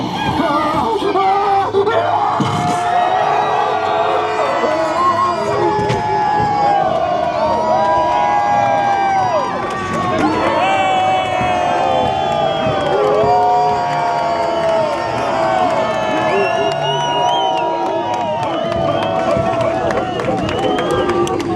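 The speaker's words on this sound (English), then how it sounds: "you had the guests all cheering at the same time" Guests at Halloween Horror Nights cheer and yell together in a loud, dense crowd roar lasting throughout, with shouts and voices mixed in.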